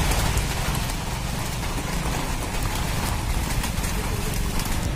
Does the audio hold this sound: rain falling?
yes